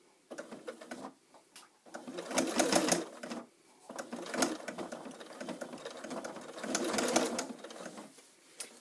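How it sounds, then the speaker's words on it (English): A sewing machine stitches a bag's side seam through thick binding in close, loud bursts of rapid needle chatter, stopping and restarting several times with short pauses between runs. "Now when you get to this seam, I want you to stitch very slowly."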